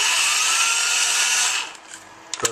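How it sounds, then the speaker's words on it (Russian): An electric screwdriver, converted to run from a computer power supply, whirs steadily at a high pitch for about a second and a half, then winds down and stops, with a couple of faint clicks afterward. "как работает шуруповерт."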